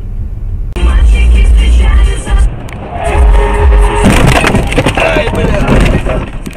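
A loud, close road collision involving a BMW, heavy rumbling and crunching impacts followed by scraping, rattling debris and crackling fragments on the street.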